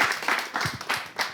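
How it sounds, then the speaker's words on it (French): Brief, sparse clapping from a game-show audience, a few hands patting in loose bursts rather than a full ovation. "Mais on l'applaudit quand même."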